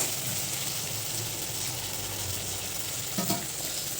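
Fish frying in plenty of oil for a curry, a steady broadband sizzle that holds evenly throughout, close and moderately loud, with a brief clatter of stirring near the end.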